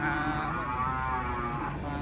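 A cow being unloaded from a truck gives one long, sustained moo that fills the short moment over a steady low background hum.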